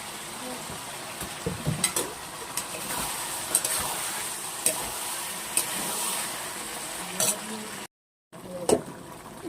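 Mutton fat frying in a pan for curry, stirred now and then, a steady close sizzle with scattered scrapes and clicks and a brief gap near the end.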